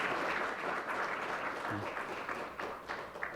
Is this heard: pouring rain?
no